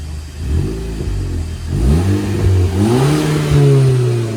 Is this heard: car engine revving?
yes